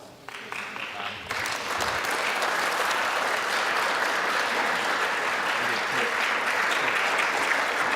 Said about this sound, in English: With thunderous applause.